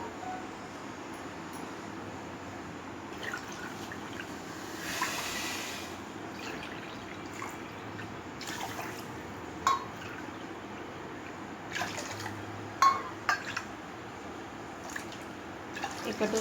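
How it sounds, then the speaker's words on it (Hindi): Water pours from a small bowl onto sugar in a pan to make thin syrup, a few separate splashing pours with quiet clinks between them, under a low background hum. "5 कटोरी पानी डालना है।"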